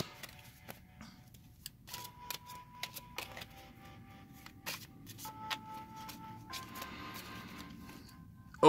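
Playing cards shuffled by hand for a solo trading card game, a run of crisp riffling flutters and taps repeating over several seconds, close and fairly quiet with no talking.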